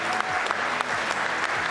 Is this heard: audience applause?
yes